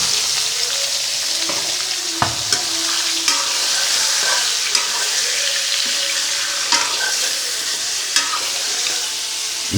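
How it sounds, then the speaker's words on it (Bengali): Chicken pieces fry in hot oil in a wok with a loud, steady sizzle, broken by repeated scraping knocks of stirring throughout. "কড়াইতে তেল দিয়ে দিয়েছি। এখন মুরগির মাংসটাকে দিয়ে দেবো।"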